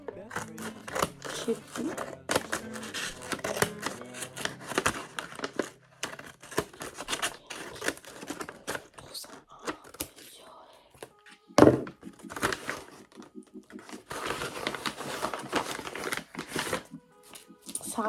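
Paper packaging being torn and crinkled open at close range, with intermittent rustling, a few thunks and a sharp rip near the middle, mixed with someone talking throughout.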